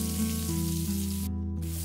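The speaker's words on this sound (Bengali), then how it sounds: "পেঁয়াজ 2-3 মিনিট বাদামি করে ভেজে নেব।" Chopped onions fry in hot oil with cumin seeds in a pan, a steady, close sizzle that continues evenly with no speech.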